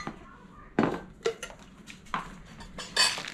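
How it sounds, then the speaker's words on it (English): Peppers and onions are cut up on a kitchen surface, giving a handful of irregular, fairly sharp knife taps and clinks with quiet gaps between them. "I'm cutting up some peppers and onions"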